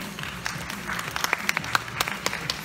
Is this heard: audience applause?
yes